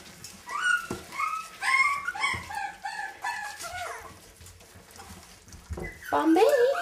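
Miniature dachshund puppies at their first raw meat meal give high, wavering whimpers and yips, clustered early on with a louder whine near the end, over soft shuffling and a low background hum.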